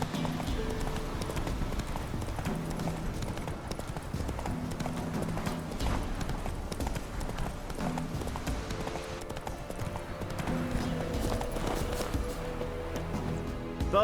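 Roach, a horse in The Witcher 3, trots with a steady clip-clop of hooves that runs the whole way through, moderately close, over a game music bed and ambient background.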